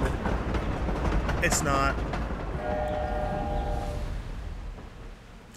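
A train passing by in the Hogwarts Legacy video game, a loud rumbling rattle with a brief horn or whistle blast and a steady tone, fading out toward the end while a person talks briefly over it.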